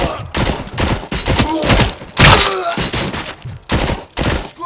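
Bursts of gunfire from the action game RoboCop: Rogue City come in rapid repeated volleys, loud and dense, with impacts and shouting mixed in.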